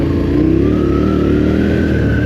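A KTM 1290 Adventure R motorcycle with its silencers removed revs steadily, loud and unmuffled, with a deep, rumbling drone that rises slightly in pitch, close by and continuous.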